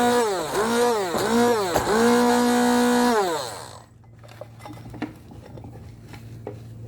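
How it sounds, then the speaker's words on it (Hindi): An electric grinder whirs loudly through a chili, garlic and vinegar chutney in short pulsing bursts that rise and fall in pitch, then the motor stops and a few light clinks and taps follow. "अब दोबारा इसको थोड़ा सा ग्राइंड करता हूँ, थोड़ा सा ग्राइंड करूँगा"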